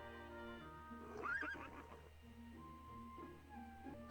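A big black horse whinnies in Reine Des Fleurs, a single drawn-out neigh rising and falling over soft game music, fairly close and clear with no voices.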